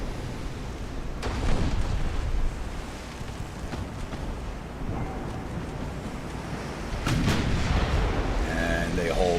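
Naval guns in the naval warfare game Ultimate Admiral: Dreadnoughts boom over a rumbling sea and wind bed, with a few deep blasts and a louder burst of firing near the end.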